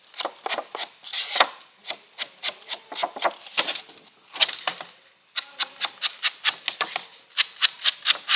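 Salted caramel ink rubbed onto wood, giving quick rhythmic scrubbing strokes in short bursts with brief pauses, close and fairly loud, no talking.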